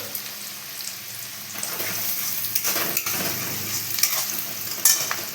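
Chopped onion and carrot fry in a pan, a close hissing sizzle broken by irregular scrapes and stirring strokes that grow louder toward the end, with no speech.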